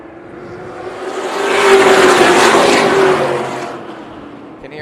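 Race cars at Tucson Speedway roar off the start of a main event, engines rising to a loud peak as the pack passes close by and then fading slightly, with no talk over them.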